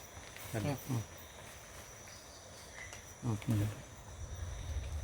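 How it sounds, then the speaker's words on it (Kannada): Wayanad bush frog calling at night in forest at Mannapapu Mala, Karkala: two pairs of short rapid clicking croaks, moderately near, over a steady hiss of night insects. "ವೈನಾಡ್ ಬುಷ್ ಫ್ರಾಗ್ ಅಂತೇಳಿ ಆ ಕಪ್ಪೆಗದು"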